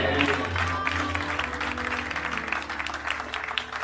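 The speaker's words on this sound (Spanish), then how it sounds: "Dale un aplauso a Dios." A church congregation applauds during a sermon on the Holy Spirit, with sustained, fairly loud clapping filling the room and a faint tonal hum beneath.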